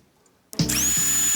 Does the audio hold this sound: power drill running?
yes